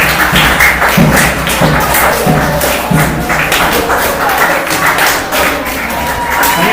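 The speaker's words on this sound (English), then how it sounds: "You can hear them clapping for you, right?" An online audience claps for a teen during a summer tech program session, a steady dense patter of hands with thumps, loud and continuous throughout.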